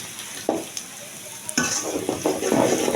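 Spices land in a pot of hot oil with fried onions, giving a soft sizzle and frying hiss broken by short stirring scrapes, the sound growing busier toward the end with no talk.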